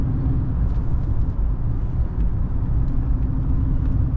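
Steady low rumble of a 1991 Mercedes-Benz 420SEL V8 running at a smooth, even pace, a constant dense drone with faint whir on top and no speech.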